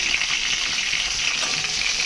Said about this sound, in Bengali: ভিতরটা গরম তেল দিয়ে ভাজা করলাম